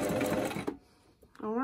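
A sewing machine stitches through a paper journal card in a dense, steady run that stops abruptly, followed by a short pause and a faint bit of handling.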